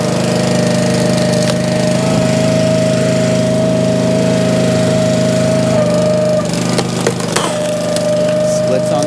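A Split Fire 2265 log splitter's engine runs loud and steady through the whole stretch, a constant drone under a sustained tone, while the splitting wedge works through a log with a few cracking, rattling bursts late on.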